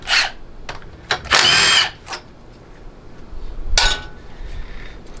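Power tool whirring in bursts while loosening a bolt during teardown of a GM 200-4R automatic transmission, with two longer loud runs and several short taps, close and fairly loud in a workshop.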